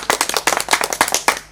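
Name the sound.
audience clapping for performers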